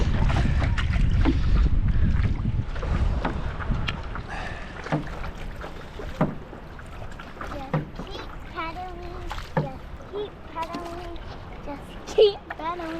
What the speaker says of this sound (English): Keep paddling. Just keep paddling.